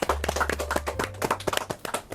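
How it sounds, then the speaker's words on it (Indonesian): Children clapping for two young readers at a Literacy Day event, a quick run of close, sharp handclaps of uneven rhythm with a low hum underneath. "Tepuk tangan dong buat Gendis sama Dimas"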